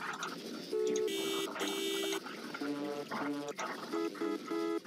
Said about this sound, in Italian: qui c'è il clacson, giustamente, come in Derby 8